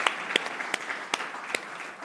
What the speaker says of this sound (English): Shall we give Manzini and the black team of Cornerstone a round of applause